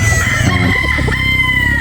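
A rooster crows loudly and close by, a long drawn-out call over steady background noise.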